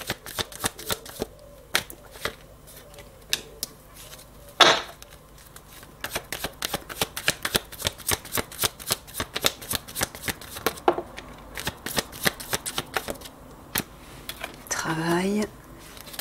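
A deck of spirituality oracle cards is shuffled by hand in repeated rapid riffling bursts, close and crisp, with brief pauses between passes and a longer rustling sweep near the end.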